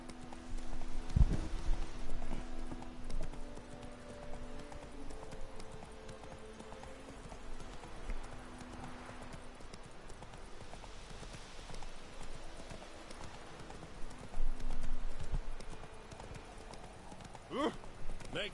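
Roach the horse galloping in The Witcher 3, with rhythmic hoofbeats clip-clopping at a steady pace under a man's occasional speech, the level swelling and fading.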